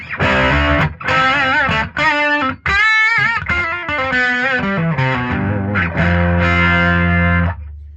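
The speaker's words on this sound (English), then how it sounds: "you can start getting some distortion." Electric guitar played through a Boss MK3 amp head with light boost-driven distortion, loud chords and riffs ringing with a sustained, saturated edge and brief gaps between phrases.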